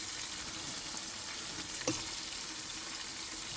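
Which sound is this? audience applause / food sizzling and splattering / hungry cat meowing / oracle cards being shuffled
food sizzling and splattering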